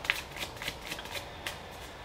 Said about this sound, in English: I am being called to pull one last card to finish this reading.